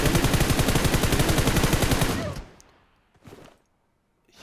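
PUBG Mobile gunfire cracks in a rapid automatic burst for about two seconds, then cuts off and is followed by one or two short distant shots.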